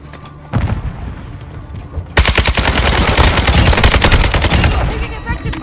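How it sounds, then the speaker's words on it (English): Kastov 7 gunfire in Modern Warfare 2 during Hardpoint on Valderas Museum: loud, rapid automatic bursts that become a dense, sustained barrage with heavy booms. "Taking effective fire!"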